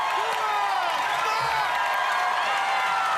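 A large crowd cheers and whoops continuously at an American Ninja Warrior qualifying course in Kansas City, with an announcer talking loudly over the noise.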